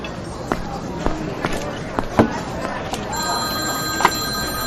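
A telephone rings indoors with a steady electronic tone that begins partway through, after a few sharp knocks and clatters, with a soft room murmur underneath.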